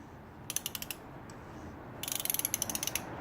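Two bursts of sharp ratchet clicks from an oil filter wrench during an oil change on a 2002 BMW 320i: a short run of about six clicks, then a longer, quicker run of a dozen or so. The clicks are close and fairly quiet, with no talk.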